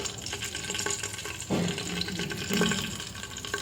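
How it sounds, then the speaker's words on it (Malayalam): Water poured into a pan of prawn biryani masala, a steady broadband splashing rush throughout with a couple of heavier gushes partway through, close and moderately loud with no talking. "അപ്പോൾ ഇതിലേക്ക് നമുക്ക് വെള്ളം ഒഴിച്ചു കൊടുക്കണം"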